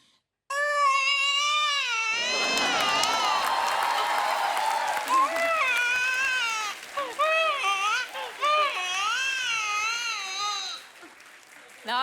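A voice imitates a newborn baby's cry, a long, wavering, high wail that breaks into sobbing bursts, with a crowd's applause and cheers swelling under it midway.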